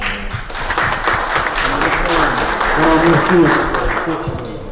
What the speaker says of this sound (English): Just a round of applause to all of them.